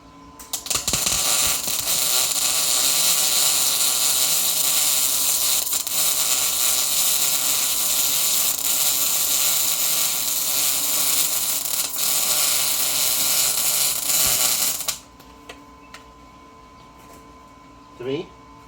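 A welding gun lays a steady weld during a metals class on welding positions. It gives a loud, continuous, close buzzing hiss for about fifteen seconds, then cuts off to quiet room noise with a brief knock near the end.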